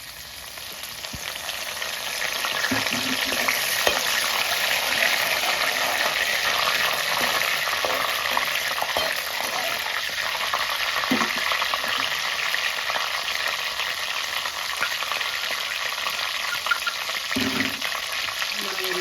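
Cumin and mustard seeds crackle and sizzle in hot oil, a steady hiss with scattered pops, close up and without any talking.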